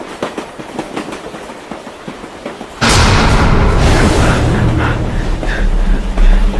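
Loud, steady rumble and rattle of a moving train heard from inside a nearly empty carriage, kicking in abruptly after a quieter stretch of ambient noise and continuing without a break.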